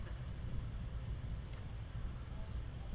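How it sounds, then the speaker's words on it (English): Steady wind blowing outdoors near a military airbase runway, a continuous low rumbling buffeting on the microphone with faint higher hiss, persisting throughout with no clear breaks. "So the wind is picking up"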